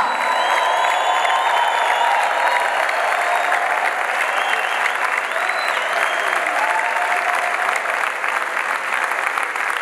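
A large conference crowd applauds continuously for about ten seconds, with dense, even clapping, faint cheers and some voices mixed into the roar.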